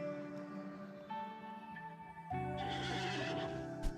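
A wounded horse in the video game Rimworld whinnies loudly, a drawn-out neigh close up over a steady bed of game music, ending with a brief thud.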